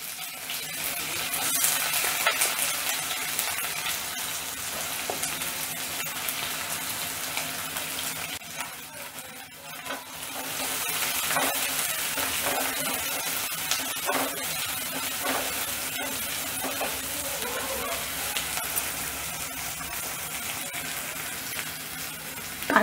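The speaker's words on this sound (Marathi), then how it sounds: "आणि एक मोठा कांदा फोडणीला घालते" A large onion fries in hot oil tempered with mustard seeds and cumin in a kadhai, a steady loud sizzle and hiss with faint crackles, briefly dipping before resuming, no voices.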